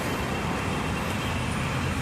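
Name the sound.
city car traffic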